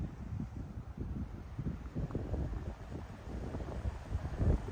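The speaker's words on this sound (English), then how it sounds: "A lot of wind." Gusty wind on an Appalachian mountain trail near Bland, Virginia, buffeting the microphone as a steady low rumble with uneven surges, fairly loud and close, no voices.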